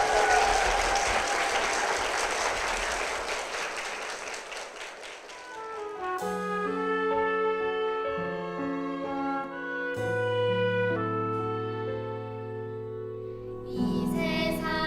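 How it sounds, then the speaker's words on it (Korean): A church congregation gives a blessing round of applause at a Korean church service. The clapping is loud and dense at first, then fades as sustained organ or keyboard chords take over for the rest of the passage. "여러분 힘찬 축복의 박수 부탁드립니다"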